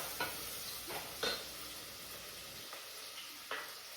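Cinnamon, cloves, fennel and star anise sizzle in hot oil in a pan, with a soft steady frying hiss and several brief scraping strokes of stirring, close and fairly quiet.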